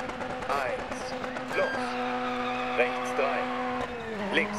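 Ford Cosworth rally car driving a stage in the racing game Dirt 4, its engine revving and shifting up and down with tire noise, heard up close under a person talking throughout.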